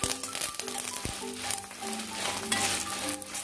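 Ingredients for chicken sukka fry in a pan over a low gas flame, a continuous close crackling sizzle with scattered pops and stirring scrapes throughout, no voices.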